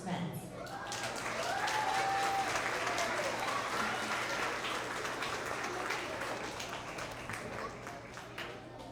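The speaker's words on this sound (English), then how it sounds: "Let's have another round of applause for all of our TK and Kinder effective communicators" Children and parents at an end-of-year school award assembly applaud TK and kindergarten students, a sustained dense wave of clapping that swells and slowly tapers, with cheers and chatter from the crowd mixed in.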